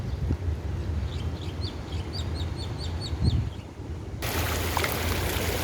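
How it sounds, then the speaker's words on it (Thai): An artificial waterfall in front of the Central Chiang Rai mall, with birds chirping in a repeated pattern over low rushing water before the splashing surges louder and closer near the end. "นี่ครับคือน้ำตกครับ น้ำตกที่ด้านหน้าเซนทันเชียงรายนะครับ"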